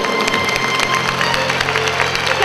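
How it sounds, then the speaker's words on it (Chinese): Applause from the audience at an awards ceremony for distinguished managers, a bright, dense clatter of many hands held at steady loudness throughout. "我们请一掌声鼓励"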